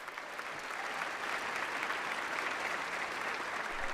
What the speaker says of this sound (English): Can we give one more round of applause for Helena, please?